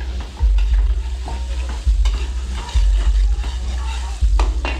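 Garlic and onion sautéing in a catering pan, a loud close sizzle with scraping stirs and clanks of a utensil recurring every second or so.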